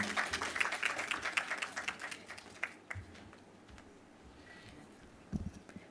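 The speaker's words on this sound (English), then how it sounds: "another round of applause for him" An audience at a productivity forum in Jamaica applauds, dense steady clapping that is loud at first and then thins and fades toward a quieter room, with a few louder claps near the end.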